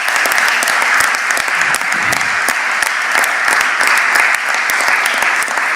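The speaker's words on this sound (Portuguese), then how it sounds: "para quem eu peço também uma salva de palmas" Loud, sustained applause from a seated audience at a university panel session in Porto, a thick continuous patter of many hands clapping close and even throughout.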